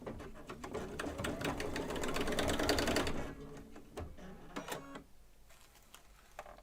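A home embroidery machine runs steadily for about three seconds with a busy, dense stitching rattle, then stops and gives way to a few scattered clicks and handling taps in a quiet room.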